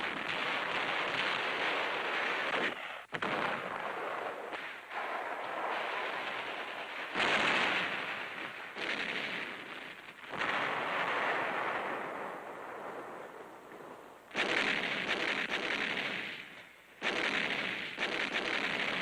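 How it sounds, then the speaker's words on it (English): Gunfire and explosions from 1945 wartime combat as troops of the 37th Division, 6th Army, fight toward Manila, heard as a dense, continuous roar of blasts and bursts in loud waves with brief lulls, no talking. "Beating back Japanese delaying actions, the troops blast their way through."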